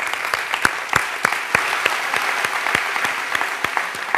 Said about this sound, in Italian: Facciamo un applauso a chi aspetta.